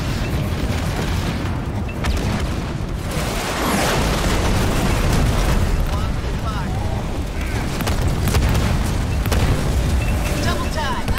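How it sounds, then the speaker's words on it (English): Halo Wars 2 battle in which an enemy Condor is destroyed: heavy booming explosions and rumbling blasts roll through a loud, continuous mix of gunfire and battle noise, with voices speaking over it. "We've destroyed an enemy condor."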